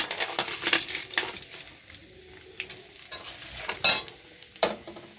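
Lentils (dal) frying in hot oil with bay leaf in a pan for khichuri, heard as a soft, steady sizzle broken by a few louder stirring scrapes and crackles, with no talking.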